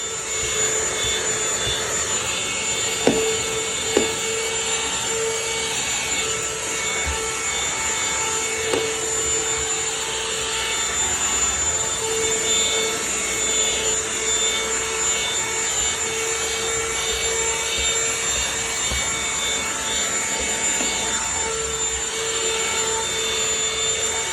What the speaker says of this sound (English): So I'm gonna get the steps with the handheld vacuum cleaner that I have.